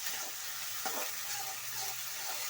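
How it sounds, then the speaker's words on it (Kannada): Tomatoes fry in hot oil with ginger-garlic paste for a beetroot palya: a steady, close crackling sizzle that stays even throughout, with a brief stir-like scrape near the middle and no voices. "ಈ ಟೊಮಾಟೊ ಮೆತ್ತಗಾಗೋವರೆಗೂ ಫ್ರೈ ಮಾಡ್ಕೊಳ್ಳಿ ಎಣ್ಣೆಯಲ್ಲಿ"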